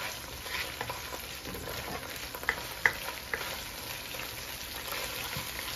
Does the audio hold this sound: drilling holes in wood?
no